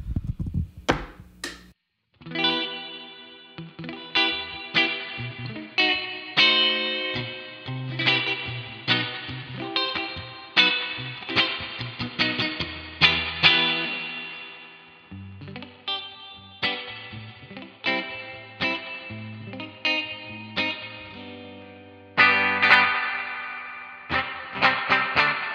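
Electric guitar played through the Neural Amp Modeler with spring reverb cranked for a surfy tone: a continuous run of picked, twangy distorted notes and chords with a reverb tail, loud and alone throughout.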